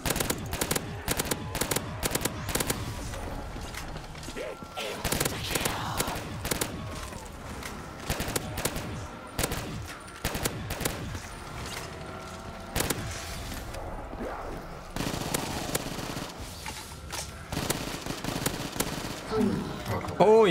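Rapid gunfire in a custom zombies video game, sharp repeated shots in dense bursts with short pauses, close and loud throughout, while a player talks over the action.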